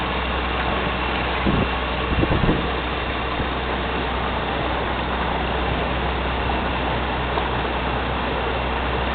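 A boat engine runs at about 2,000 RPM at a jogging pace, giving a steady, even drone with a low rumble throughout and no talk.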